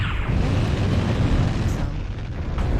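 A missile explosion in the video game MechWarrior Online gives a heavy, rumbling boom that holds loud and dense for a few seconds before easing slightly.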